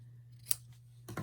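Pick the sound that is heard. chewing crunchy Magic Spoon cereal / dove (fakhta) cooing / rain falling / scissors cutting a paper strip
scissors cutting a paper strip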